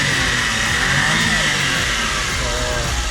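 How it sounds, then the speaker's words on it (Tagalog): A Japanese mini van's K6A 660cc three-cylinder engine runs steadily up close, a continuous loud mechanical hum and whir with no talk over it. "So ito yung makina natin is K6A engine, 660cc, 64 horsepower."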